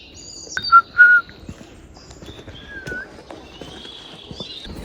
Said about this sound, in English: Cute little chirping.